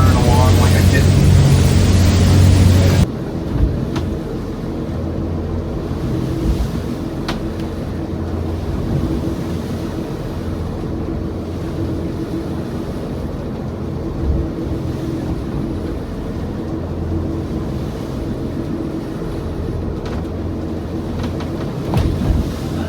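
A motorboat runs steadily across Lake Michigan in light waves, its engine drone and wind rushing continuously and fairly loud for over twenty seconds after a brief louder burst at the start, with no talk.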